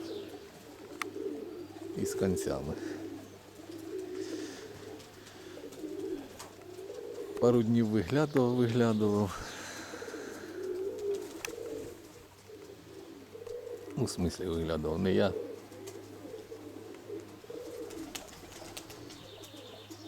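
Pigeons from the Konotop area coo in a few deep, throaty bursts, one longer rolling call near the middle and shorter ones before and after, fairly close, while someone talks over a low steady hum.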